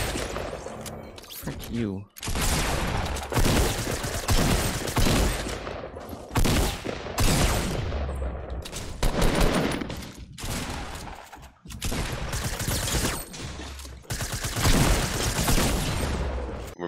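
Pump shotgun blasts in Fortnite Battle Royale, with repeated loud shots and rapid bursts of gunfire throughout, while a player talks excitedly over the action.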